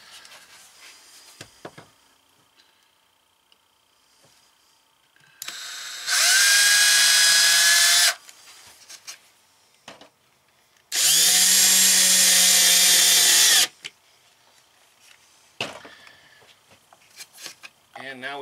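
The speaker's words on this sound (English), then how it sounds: "All right, so we'll go ahead and drill and get that one in" Power drill working inside a Ram ProMaster 2500 159-inch wheelbase van while mounting gas struts, first drilling, then driving a screw, in two loud sustained bursts of a few seconds each, with quiet handling noises and brief talk around them.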